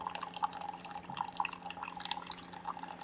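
A Keurig K-Select coffee maker running a freshwater rinse, faint irregular drips and trickling water falling into a cup over a low steady machine hum.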